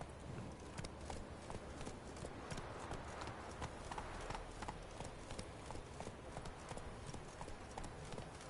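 A horse gallops in The Witcher 3, its hooves drumming in a fast, continuous rhythm under dense outdoor ambience, loud and close throughout.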